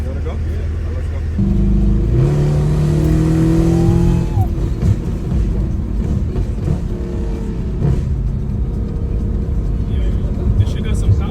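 A Mercedes W204 C63 accelerating hard, its engine note climbing steeply through the revs into a loud, sustained roar heard from inside the car, with people talking over it.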